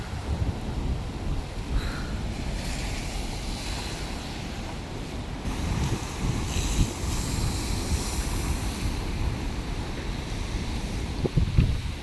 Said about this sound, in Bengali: আজকে ঢেউগুলো খুব সুন্দর সুন্দর ঢেউ দিচ্ছে আজকে।